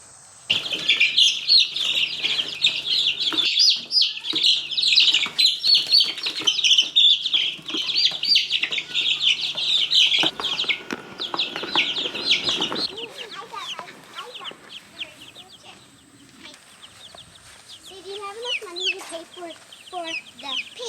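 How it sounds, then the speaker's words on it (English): Chickens and young chicks clucking, cheeping and chirping steadily up close in a coop, a dense overlapping chorus that thins toward the end into scattered peeps. "let's get some chicks outside for the first time"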